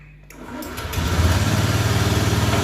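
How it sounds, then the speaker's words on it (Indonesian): A Honda automatic scooter's electric starter cranks briefly, then the engine catches and settles into a steady, close, pulsing idle. "saya coba start pakai double starter sama electric starternya"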